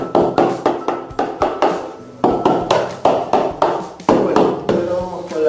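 A hammer tapping a ceramic floor tile into fresh adhesive to set it, a steady series of close, sharp knocks in quick bursts, with no talk over them.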